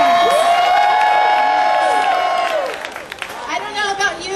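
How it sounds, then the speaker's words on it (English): A rally crowd cheers, whoops and claps in a loud sustained swell over a large outdoor gathering, with a long high shout riding on top before the noise breaks up into scattered yells and chatter. "by a show of applause, how many people here are medical patients?"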